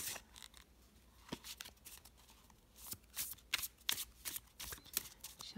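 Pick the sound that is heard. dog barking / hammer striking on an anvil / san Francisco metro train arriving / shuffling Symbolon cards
shuffling Symbolon cards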